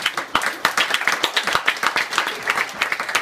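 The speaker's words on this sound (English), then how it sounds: "can I just have another round of applause for Jason?" A round of applause from wedding guests, quick dense clapping that holds steady at close range for a few seconds.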